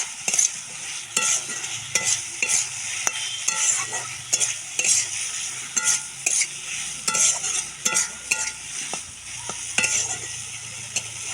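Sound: potatoes stir-fried in spice masala for fish curry

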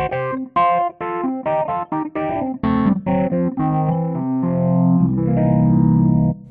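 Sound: Kawai ES920 digital piano with amp simulator overdrive effect

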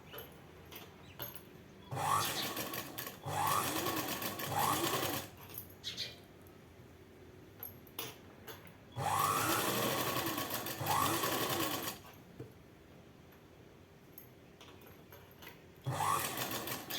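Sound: sewing machine stitching thread piping on neck piece

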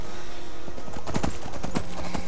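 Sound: horse hooves clip-clopping in video game Skyrim

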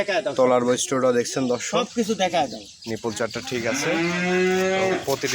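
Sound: cow mooing

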